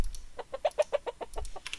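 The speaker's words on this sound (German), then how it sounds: "Da lachen sogar die Hühner, aber von wo?" Chickens in the Minetest video game cluck in a quick string of short, evenly spaced pecking notes, moderately loud with a faint background hum and no talk.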